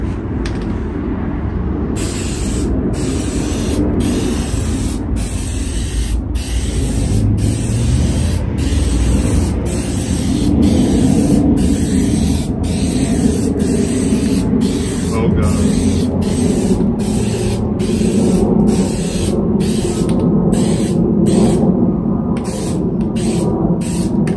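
Plasti Dip aerosol sprays onto black 18-inch aero wheels of a Tesla Model 3, a close, steady hiss broken by regular short pauses between passes.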